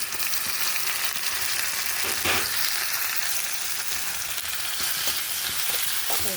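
Onions and ginger-garlic paste fry in a pan with a loud, steady, close sizzle that fills the whole clip, broken now and then by faint scrapes of stirring.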